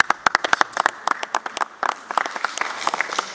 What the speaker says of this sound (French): On peut tous applaudir cette initiative.